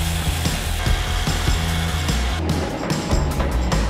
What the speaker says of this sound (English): trim down these bronze bushings so that they sit flush with the tops